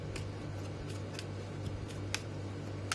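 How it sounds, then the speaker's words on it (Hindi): Tarot cards being shuffled by hand, a quiet run of soft, irregular papery flicks and ticks close by, with no talking. "देखा कितना शफल कर रही हूँ और एक भी कार्ड नहीं आ रहा है"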